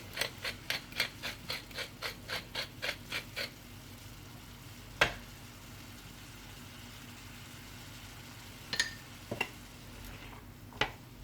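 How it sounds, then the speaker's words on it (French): Turkey, bacon and vegetables cooking in a pan, about a dozen rhythmic stirring scrapes in the first few seconds, then a low steady simmer with a few sharp clinks of a utensil against the pan. "Et je mélange. Et je fais cuire une quinzaine de minutes comme ça."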